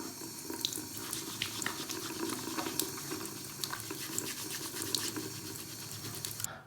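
Tap water runs steadily into a bathroom sink as hands are washed before removing contact lenses, a continuous splashing stream with small clatters from the hands, close and unbroken throughout.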